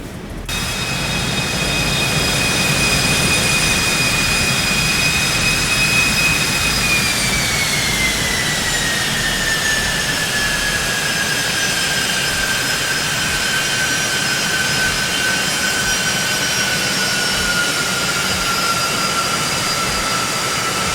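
Jet engine of a Citation X business jet in the X-Plane 12 flight simulator spooling up, a loud steady roar with a high whine that drops in pitch midway and holds, continuous throughout.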